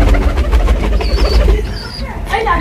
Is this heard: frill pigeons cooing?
yes